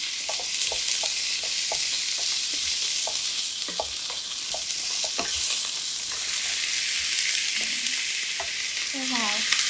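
Celery stir-fries in a hot pan with ginger and garlic, making a continuous loud sizzle broken by regular scraping and tapping of a spatula against the wok.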